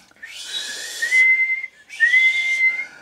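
A person whistles to imitate police peelers' whistles: two sustained, shrill tones, each over half a second long, separated by a short gap, loud and close with no talking.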